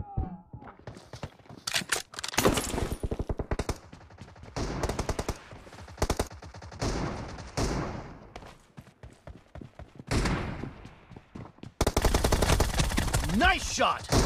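Automatic gunfire in the PUBG video game comes in repeated sharp bursts of rapid shots, separated by short pauses. The crackling volleys are loud and close, and the final burst is the densest.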